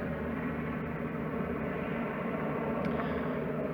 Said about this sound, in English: I'll try to talk over the noise of the rotating blades of the helicopter